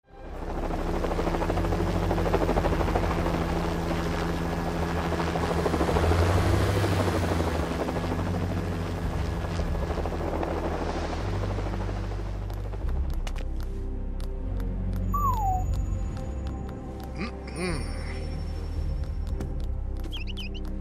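A helicopter in LEGO Jurassic World drones loud and steady with rotor thrum for most of the stretch, then fades. Scattered game effects and clicks follow, with no voices.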